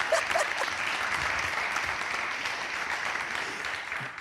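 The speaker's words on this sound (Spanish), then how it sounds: "¡Un aplauso!" An audience at an interview event applauds steadily for several seconds, a dense, even wash of clapping close by with no talk over it.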